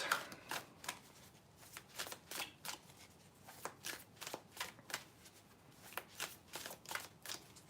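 Tarot cards shuffled by hand in a steady run of crisp riffling bursts, close and fairly quiet, with brief pauses between passes and no talking.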